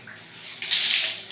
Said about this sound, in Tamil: கழுவிட்டு உடனே தண்ணி ஊற்றி கழுவிடணும்.